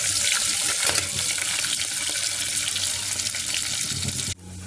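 Onions fry in a pan with curry leaves, giving a loud, close, continuous sizzle that cuts off abruptly near the end.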